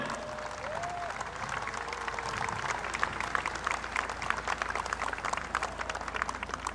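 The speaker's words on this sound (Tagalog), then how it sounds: "iparating ninyo ang init ng inyong palakpak at pasasalamat kay President Bongbong Marcos Jr." Audience applause fills a hall after a call to thank President Bongbong Marcos Jr. during a university funding announcement, steady dense clapping that swells slightly with a few louder claps, with a faint voice briefly heard early on.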